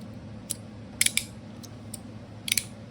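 Sharp metallic clicks from a titanium fidget slider come in small clusters over a faint hum: a single click, a quick double, then a few more, close and crisp.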